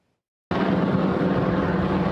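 A helicopter searching Nanfang'ao harbour for a missing fisherman's boat drones with a steady, loud rotor and engine roar that starts abruptly and holds constant.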